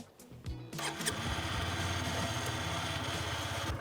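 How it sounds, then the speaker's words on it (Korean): A motorcycle engine starts after a brief crank and settles into a steady, close idle, with no talking. "스텝에 시동 켜주시고"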